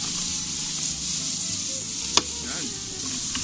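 Beef stir-frying with cauliflower and mixed vegetables in a hot pan, a steady bright sizzle throughout with one brief clack of a utensil, close and continuous without talk.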